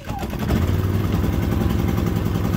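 A new Predator 3500 inverter generator starting and running, a close, loud, steady engine chug with a rapid low pulsing throb after a brief start.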